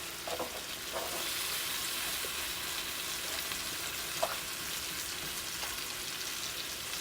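Garlic wine pork chops fry in a pan with a constant, even sizzle, close and steady throughout, with a couple of faint clicks and one small tap, no talking.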